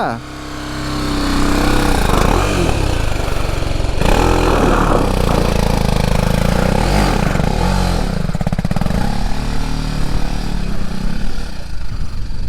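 A motorcycle engine runs and revs continuously on a rocky off-road trail at Gangadareshwara Betta near Kanakapura, loud and close, with people shouting over it.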